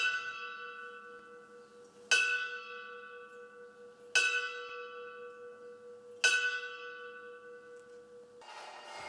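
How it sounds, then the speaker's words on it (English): A memorial bell for fallen firefighters tolls slowly three times, each strike ringing out and fading in a long resonant decay, with a brief rustle at the end. "bells could be heard across the U.S. today in honor of firefighters"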